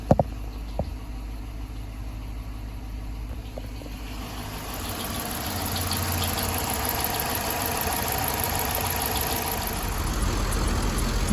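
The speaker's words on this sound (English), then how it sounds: "Letting the engine warm up a bit." A Chrysler 300C with a 5.7 Hemi V8, fitted as a replacement engine, idles on a very cold morning while warming up: a steady, close mechanical rumble with a few sharp knocks at the start and a slight rise in level partway through.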